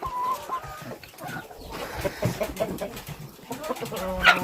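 Several broody hens cluck and squawk close by in an ongoing, irregular chorus, with a few sharper calls near the end.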